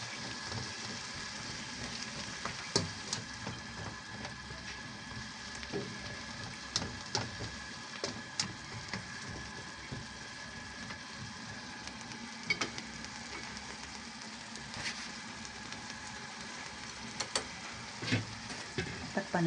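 Pork chops and their sauce cook in a pan with a soft, steady frying fizz. Scattered tiny pops and clicks run through it, quiet and continuous, with no talking.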